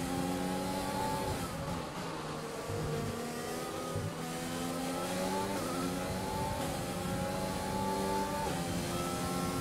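Formula 1 car engine in the F1 2020 racing game, loud continuous high revving with rising and falling gear-shift harmonics, alone without talk.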